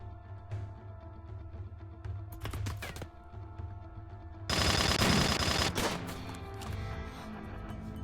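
Colonists shoot in the video game RimWorld: a short burst of rapid gunfire, then a longer, louder volley of shots that fades into a lingering ring, with no talking.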